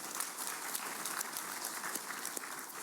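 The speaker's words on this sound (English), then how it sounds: "And I think we should clap for these young guys." Audience clapping at a speech by the AfDB president, honouring young Nigerian fintech founders; steady, dense applause across the whole stretch, moderately faint and without a voice on top.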